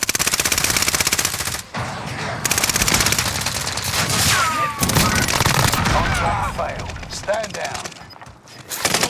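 Rapid machine gun fire in a Call of Duty: Modern Warfare match, loud sustained bursts with short pauses and scattered shots, near and dense, with voices talking over the gunfire.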